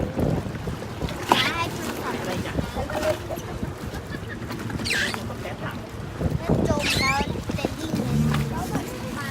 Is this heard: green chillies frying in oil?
no